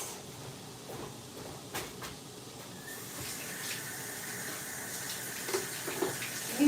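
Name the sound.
washing hands under running tap water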